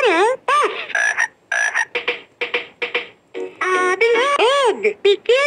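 A cartoon frog croaks in a run of short, bright, warbling calls with brief gaps, some rising and falling in pitch, close and loud with no other sound around it.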